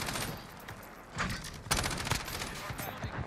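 Rapid bursts of RAM-7 assault rifle fire in the video game Modern Warfare, loud and close, with several sharp volleys crowding the second half and faint background game noise between them.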